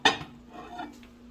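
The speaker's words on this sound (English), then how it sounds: "Our asparagus is done over here. Take it out of the microwave." A dish of cooked asparagus is pulled from a microwave with a sharp clink of dishware at the start, followed by soft handling clatter in a quiet kitchen.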